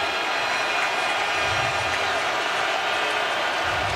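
A sellout NFL playoff crowd roars at Paul Brown Stadium during a Bengals game, a steady dense rumble of cheering heard at a distance for the whole stretch.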